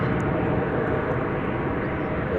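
A Boeing 777 airliner at DFW Airport produces a continuous, loud broadband jet roar, steady and close, with no break or change across the brief span.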